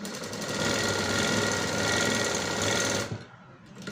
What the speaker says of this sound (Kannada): 3 ಹೊಲಿಗೆಯನ್ನು ಹಾಕ್ತಾಯಿದ್ದೀನಿ